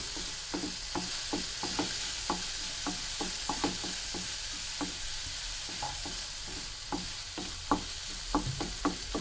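A spatula stirs and scrapes a mixture being dry-roasted to dark brown in a pan for an Onam sadya, with regular rhythmic strokes over a faint steady hiss.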